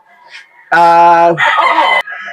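An Allen gamefowl rooster at a game farm lets out a single loud, close crow, shifting in pitch partway through, preceded by a brief softer call and trailing into a fainter one.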